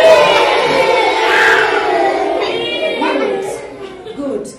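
A classroom of young children cries out together on cue, a loud, wavering chorus of mock wailing and whimpering voices that swells, then gradually fades over a few seconds.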